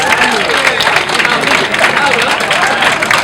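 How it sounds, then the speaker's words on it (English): Women at an international polo match day in Windsor give the men a round of applause, a dense, continuous wash of crowd clapping and cheering that stays loud and steady throughout. "why don't the ladies give the men a huge round of applause?"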